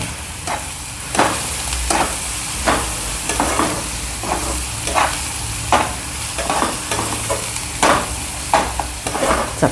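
Onions frying and being stirred in a pan for Maharashtrian vangyache bharit (baingan bharta), with a steady sizzle broken by regular scraping stirs throughout, close and fairly loud, with no talking.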